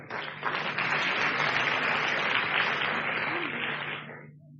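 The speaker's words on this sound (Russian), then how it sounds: "Дайте ему аплодисменты." A church audience at a ministry training school breaks into a burst of applause, a dense wash of clapping that swells quickly, holds steady for about four seconds, then fades out.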